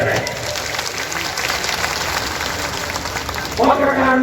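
Audience clapping at a felicitation ceremony for Geniben Thakor held by the North Gujarat Kshatriya Thakor community in Patan, a steady wash of hand claps throughout, with a louder burst near the end.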